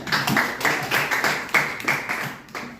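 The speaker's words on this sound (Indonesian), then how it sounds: "tepuk tangan buat temannya." Students in a physics classroom clap for a classmate, giving a short, loosely rhythmic burst of claps in a small room, moderately near and fairly soft.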